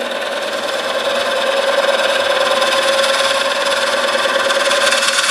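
Steady whirring and scraping of a wood lathe as a gouge makes a pull cut on a 12-inch red oak bowl, with a continuous loud tone holding evenly for several seconds and no talk.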